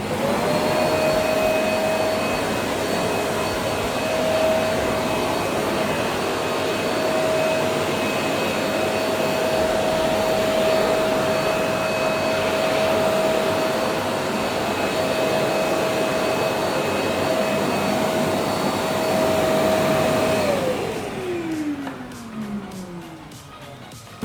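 Thomas Twin Aquawash Pet washing vacuum cleaner running steadily at close range, a loud constant motor whine with airflow rush, then the pitch falls away as the motor is switched off and spins down near the end.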